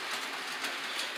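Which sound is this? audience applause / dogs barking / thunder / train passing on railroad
train passing on railroad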